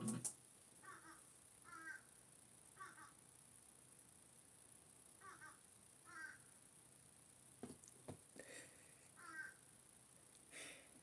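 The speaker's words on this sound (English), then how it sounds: "I know y'all hear the damn crow outside my window." A crow caws outside a house window in a series of short, hoarse calls, some in pairs, spaced apart over a quiet indoor background, faint and somewhat distant with a few breaths nearby.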